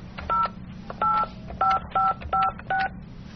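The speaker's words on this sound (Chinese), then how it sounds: "无奈之下，我们只能拨打114再次查询号" Telephone dialing tones on a keypad, six short evenly spaced DTMF beeps over a low hum with no voices.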